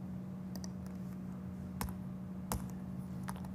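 Keys tapping on a computer keyboard while entering a short string into a program, a few light scattered clicks over a steady low hum, close and fairly quiet, with no talking.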